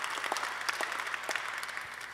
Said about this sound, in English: What you really want to do is applaud our guest conductor today, Pascal Tortelier.